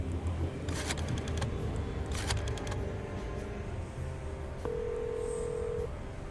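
An old telephone being dialed in the video game Chicken Police: bursts of quick clicking from the dial, followed by a steady tone, faint and close over a low background hum.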